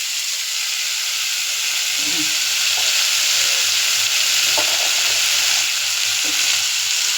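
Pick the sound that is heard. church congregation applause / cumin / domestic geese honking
cumin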